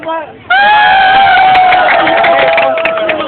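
A rap battle crowd in the Philippines erupts into loud cheering and screaming after a brief quieter moment, the roar of many voices staying strong and close before slowly tapering.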